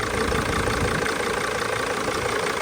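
A 2006 Dodge Sprinter diesel engine runs steadily at idle with its serpentine belts and tensioner turning, a continuous close, fairly loud drone without breaks.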